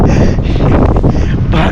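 Strong outdoor wind buffets a microphone in a steady, loud low roar with gusting surges and flutter. No speech is heard.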